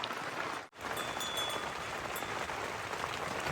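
Rain falling steadily during an outdoor shepherds' meal in the hills, a soft continuous patter with a brief dip near the start, faint and alone.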